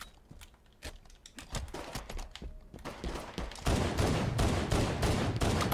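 Rapid gunfire from a Halo 5 multiplayer match crackles in dense bursts, starting sparse and building into a loud, continuous volley toward the end, with no talk.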